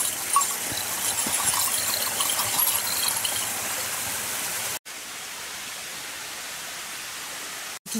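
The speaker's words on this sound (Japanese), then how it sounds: "滝があるところです。" Waterfall beside a mountain trail on Jozankei Tengu-dake in Hokkaido, a steady rushing wash of water heard close, with brief dropouts near the end.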